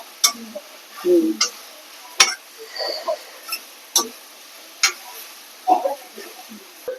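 Taro leaves being sautéed with kokum in a pan, with scattered scraping, stirring taps and utensil clicks against the pan over a faint sizzle, heard close and intermittently.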